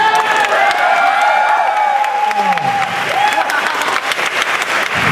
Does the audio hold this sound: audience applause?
yes